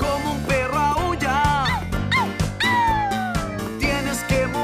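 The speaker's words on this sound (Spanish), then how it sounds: "¡Como un perro aúlla!" Long gliding, howl-like sung notes ride over a bouncy children's song about singing dogs, with short yips before a sustained falling wail, all upfront and loud over the backing track.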